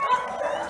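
Week-old puppies whimper and yip in a short, close, high-pitched burst of thin whining cries.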